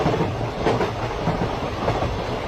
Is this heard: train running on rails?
yes